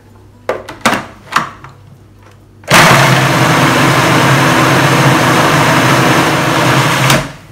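A few knocks and clatters, then a blender roars to life, whirring steadily for about four seconds as it grinds chilies and oil into a curry paste before cutting off.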